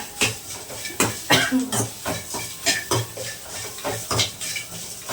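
Cumin and black pepper frying in a pan, with a spatula stirring and clinking against the metal in a busy, uneven rhythm over a soft sizzle.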